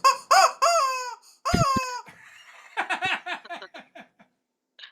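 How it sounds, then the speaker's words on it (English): A rubber chicken dog toy squawks in a series of loud, close, nasal honks, first long drawn-out squeals and then a quicker string of short clucking squeaks that trail off into silence. "It just got her a rubber chicken."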